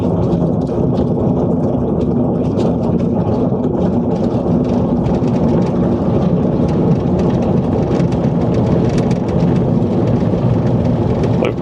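Heavy rain pounds a vehicle during a storm chase on a North Texas farm road, a loud, dense and continuous roar with a low rumble underneath.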